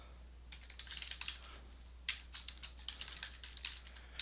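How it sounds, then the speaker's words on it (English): Quick bursts of light clicking keystrokes on a computer keyboard while an email address is entered on a sign-up page, heard close and quiet against a low steady hum. "Type in your email address,"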